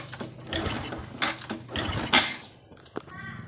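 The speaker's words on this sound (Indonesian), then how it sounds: "Sekarang kita coba nyalakan motornya." A Honda Supra X 125 motorcycle is kick-started with the ignition on, producing repeated close mechanical cranking bursts and rattles in an uneven rhythm without the engine catching.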